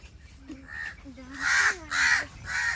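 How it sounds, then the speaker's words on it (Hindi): Crows caw loudly and close by in a Pakistani village mango orchard, giving three harsh calls in a row, with people talking quietly underneath. "कब्बे क्या कहते हैं, कहीं घोंसले तो नहीं इनके?"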